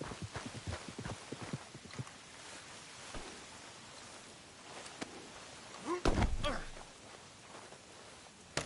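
Horse hooves clip-clop in the video game Red Dead Redemption 2, a faint irregular run of hoof beats, with a heavier thud cluster midway and soft voices in the background.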